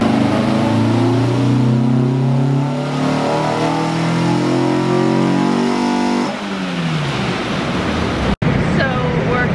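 K24-swapped Honda S2000 engine on a dyno pull, loud and close, revving steadily upward for about six seconds before dropping off, then a short sharp bang near the end.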